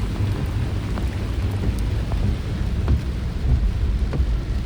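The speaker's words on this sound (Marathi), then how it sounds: "खतरनाक समुद्रात पण खतरनाक पाऊस चालू आहे" Heavy monsoon rain pours down at the sea near a beach in Devgad, Sindhudurg, a dense, steady roar with low rumbling and the odd sharp drop, loud and continuous with no talking.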